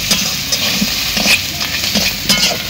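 Fried crab stirred in a pan with onion and garlic, a steady sizzle under repeated scraping and clinking of a spatula against the pan, close and fairly loud throughout with no talking.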